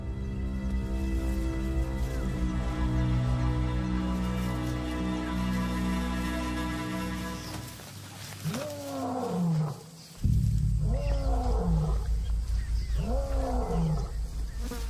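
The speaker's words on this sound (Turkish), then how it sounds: "Bu kükreme ayrılma zamanının geldiğini gösteriyor." Lions roar in deep, repeated grunting bouts on open savanna ground, loud and close, with two or three strong heaving calls following a long sustained rumbling passage, no voices present.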